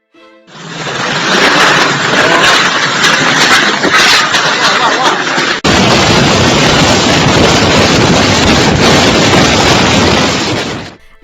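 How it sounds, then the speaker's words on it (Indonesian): Typhoon In-fa batters eastern China with loud, continuous roaring wind that buffets hard and steadily for about ten seconds, broken by a sudden cut midway, with no voices heard. "Angin topan Infa di Cina."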